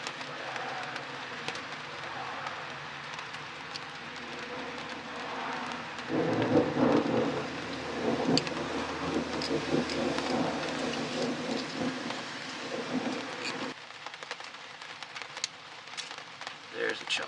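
A thunderstorm rumbles in the background with steady rain falling, a low roll of thunder swelling in the middle and fading, heard faintly outdoors around a car being worked on.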